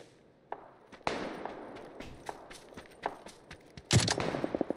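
M249 machine gun fire in a shooter video game comes as rapid bursts of cracking shots, a long rattling volley then a louder dense burst near the end, with scattered single pops between.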